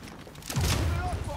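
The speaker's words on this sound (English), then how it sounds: "Flashbang." A flashbang grenade goes off in the shooter game The Division, a sudden muffled boom and low rumble under game noise.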